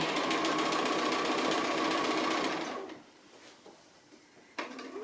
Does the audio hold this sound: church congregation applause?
no